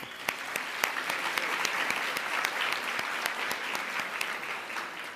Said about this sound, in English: Everyone, please give our distinguished guests another round of applause.